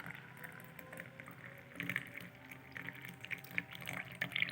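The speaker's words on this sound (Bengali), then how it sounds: "এবার আমি চাটা ছেঁকে নিচ্ছি।" Butterfly pea flower blue tea strained through a sieve into a cup, a soft continuous trickle of liquid with light clinks and splashes, close and fairly quiet, with no talking.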